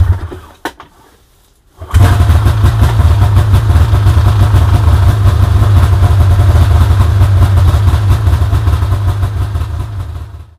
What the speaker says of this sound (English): that is the first start that I've done on this sled today, so it was a totally cold start